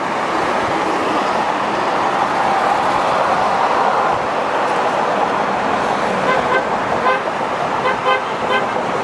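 Car horns honk repeatedly in dense city traffic, several short toots and longer blasts from a moving vehicle. They ride over a constant loud roar of engines and road noise, with faint voices underneath.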